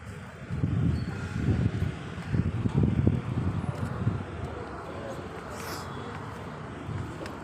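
Cold evening wind gusts outdoors, buffeting the microphone with a low, rumbling roar that surges strongly through the first few seconds and then eases into a steadier, softer blow.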